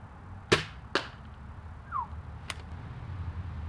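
A Nerf HotShock blaster with a brass elite barrel firing an FVJ round: two sharp, close snaps in quick succession, a brief whoosh, then one more crisp click against a quiet room.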